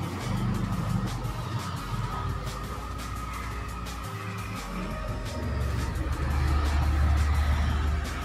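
A tourist bus drives back from Eravikulam National Park, its engine a steady low rumble with road noise and faint rattles, heard from inside the vehicle at moderate level.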